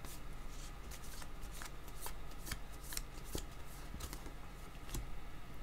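Tarot cards shuffled by hand in a quiet room, a close, steady run of soft riffling slaps and flicks with no talking.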